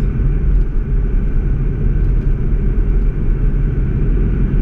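A Mercedes-Benz car with a 722.9 7G-Tronic automatic transmission driving and shifting through its gears, heard as a continuous close, loud low rumble of engine and road noise without clear breaks, no voices.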